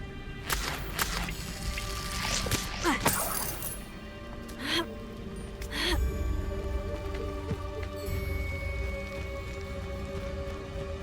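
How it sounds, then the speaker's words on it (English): Waterfall in the video game Hogwarts Legacy, a steady rushing wash of falling water throughout with a few brief sharp game effects layered over it. "The waterfall."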